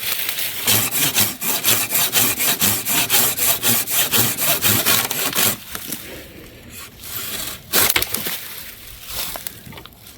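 A fox hatchet's blade sawing through wood one-handed at a camp with a canvas bell hot tent, rapid rhythmic rasping strokes for about five seconds, then scattered scrapes and knocks.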